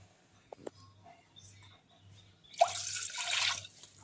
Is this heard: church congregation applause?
no